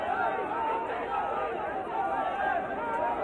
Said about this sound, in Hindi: लेकिन कार्यकर्ता शोर मचाते रहे।